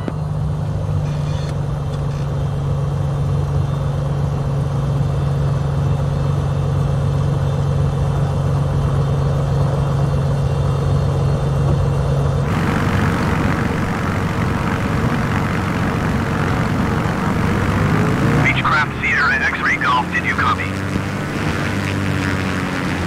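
Aircraft engine in Microsoft Flight Simulator 2020 drones steadily through a takeoff roll, a constant loud hum that shifts in tone partway through and picks up a rushing, rising roar toward the end; no talking.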